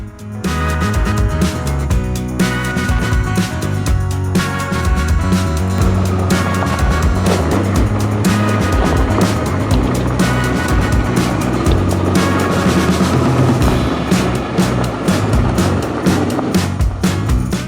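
A Honda 650 Transalp motorcycle rides off-road over gravel and rocks in the Dolomites, its engine droning loud and steady throughout, mixed with rumbling wind and rough-terrain noise and no talk.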